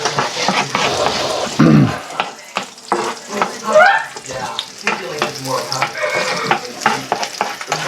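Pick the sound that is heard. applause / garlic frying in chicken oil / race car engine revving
garlic frying in chicken oil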